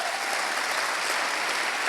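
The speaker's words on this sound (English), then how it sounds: "Join me again in a round of applause." An audience at an evening event featuring speakers and a performance breaks into a continuous, even round of applause, a dense wash of many hands clapping at once.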